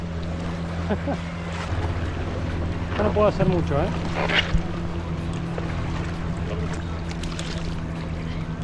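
A motorboat passes near a kayak on a river delta, its low engine hum and wash running steadily beneath wind noise and water splashes, while people talk over it.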